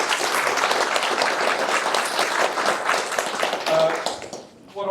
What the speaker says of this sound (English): Look, round of applause for.